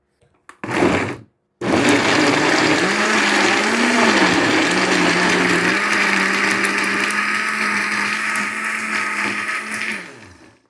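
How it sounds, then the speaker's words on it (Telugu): A mixer grinder blends juice with tinned milk, sugar and water: a brief spin, a pause, then a long loud steady whirring run whose pitch wavers before it winds down. "ఇప్పుడు చూద్దాం ఇది మిక్సీ అవుతుందా లేదా అనేది"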